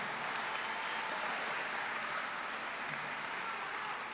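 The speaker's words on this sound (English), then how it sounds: "Give yourselves a thunderous round of applause." Members of Flagler College's 2017 graduating class applaud at their commencement ceremony, a dense and steady wash of clapping from a large crowd that holds level for the whole stretch.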